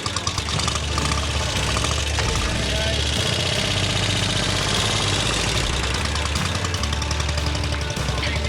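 An engine, apparently a 1970 model, idles at a watercross race with a steady, rough, knocking rumble, loud and close, while people talk over it.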